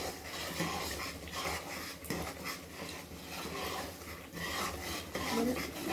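Spice paste stirred and scraped around a kadai for chap gravy, a steady rasping, rubbing scrape with a spoon that repeats continuously and fairly close, with no talking over it.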